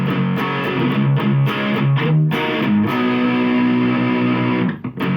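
A heavily distorted electric guitar chugs through a power-chord riff, short stabs then longer held chords, loud and up close with no voices.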